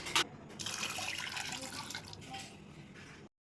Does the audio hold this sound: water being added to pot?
yes